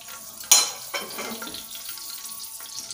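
Blended spice paste hits a hot pan with a sudden loud sizzle, then keeps frying steadily while being stirred, with a few scraping knocks of the utensil against the pan.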